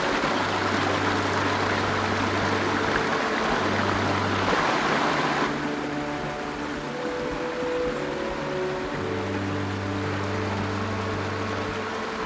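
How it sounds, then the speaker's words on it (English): A mountain stream runs off a mountainside in the Victorian High Country, its steady rushing water filling the scene over the low, even hum of an idling vehicle engine nearby. "There's this beautiful stream running off the side of the mountain here."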